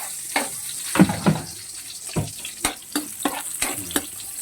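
Onions and garlic sauté for pancit bato in a pan, giving bursts of sizzling and stirring scrapes that come in irregular pulses, close and moderately loud, with no voices.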